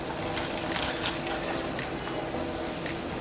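Chicken soup with cooked vegetables and shredded chicken is stirred in a pot, giving a dense bubbling, frying-like hiss with intermittent soft scraping strokes and no speech.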